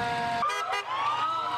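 A loud emergency vehicle siren wails close by, its tone sweeping up and down in steady cycles with a brief dip partway through.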